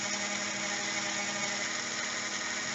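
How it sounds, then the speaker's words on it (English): A saw runs with a steady, high-pitched whirring drone while cleaning out the serrations of a Kerberos security pin, continuous and fairly even with no talking. "I'm going to go back in with the saw real quick, and I'm going to clean up each one of the serrations"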